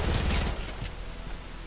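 Hand cannon pistol fire in the Fortnite Battle Royale video game, a loud burst of rapid shots up front that fades into scattered, quieter echoes and distant fire.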